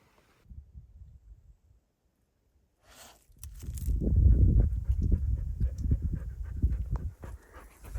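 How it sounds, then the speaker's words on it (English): A dog pants heavily and rapidly up close at a desert gorge hot spring, quick rhythmic breaths continuing for several seconds after a quiet start with faint rustling. "your heavy breathing is breaking the beautiful silence of this moment."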